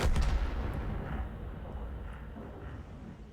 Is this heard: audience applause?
no